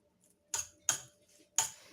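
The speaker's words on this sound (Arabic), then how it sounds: "وغادي نخلط مع ثاني هاد المكونات هادو باش يتجانسوا مع بعضياتهم." A utensil knocks three times against a bowl while fish stuffing with Chinese vermicelli is mixed, each clink sharp, close and separated by short pauses, with no talking.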